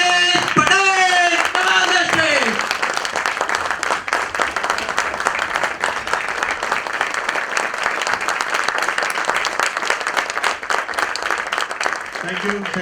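A live audience gives loud, sustained applause to welcome a guest speaker, Dr. Jayesh Patel, to a health talk, with a brief voice at the very start before steady clapping fills the rest.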